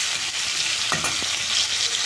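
Potatoes and cabbage with spices fry in a pan, a constant sizzling hiss with a couple of scraping stirs of a spoon near the middle.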